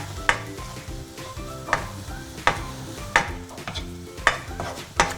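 Flour and mushrooms cooking in a pan for mushroom soup, a soft sizzle under rhythmic stirring, with regular scrapes of a utensil against the pan about every second, close and moderately quiet.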